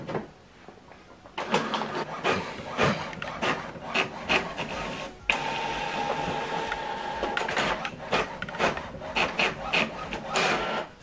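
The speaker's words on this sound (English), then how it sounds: "Now this document is printing." A home printer runs a double-sided print job, with a steady mechanical whir broken by rhythmic clicks, paper rubbing and feed clatter, close and moderately loud with no talk.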